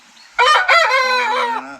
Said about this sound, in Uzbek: mana xo'roz o'qib qoldi bular ham